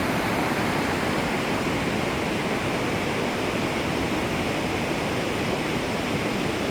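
Mountain river at about 2100 metres rushing below a high suspension bridge, a steady, dense broadband roar of water that stays constant and fairly loud throughout with no voices.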